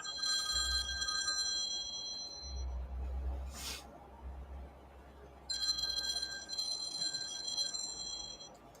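A phone rings in a room, with repeated bright electronic trilling bursts separated by short gaps. It is moderately quiet against a low background hum.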